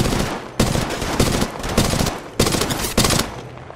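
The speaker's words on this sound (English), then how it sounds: "Listen up, I'm getting shot at." Bursts of automatic gunfire from the mobile battle royale game Apex Legends Mobile, several loud, sharp volleys in quick succession with brief gaps between them, no talking.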